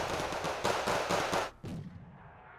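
Rapid bursts of Panzer Grenadier infantry gunfire in the Wargame: Red Dragon strategy game, a loud dense volley of shots for about a second and a half, then dropping to a quieter crackle and fading.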